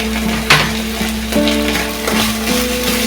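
Spices with turmeric and salt being sautéed in oil over medium flame for a spicy oil-based Kanta fish curry: a loud, close sizzle with repeated spatula scrapes and clinks against the pan, and no voices.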